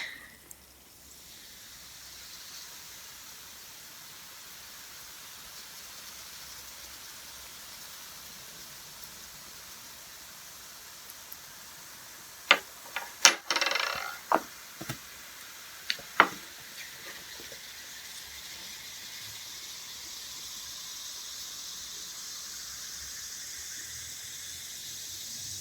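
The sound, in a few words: whole spoon of baking soda plopped into bowl, fizzing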